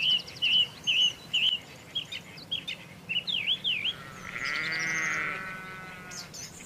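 A sheep on a shepherd's meadow lets out one drawn-out, wavering bleat after a run of short, high chirping bird calls, fairly close and clear with no talking.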